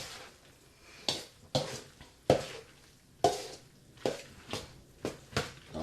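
A spoon stirs pasta and eggs in a pan, about nine sharp scraping and clattering strokes at a steady uneven rhythm, close and fairly faint, with a light background hiss.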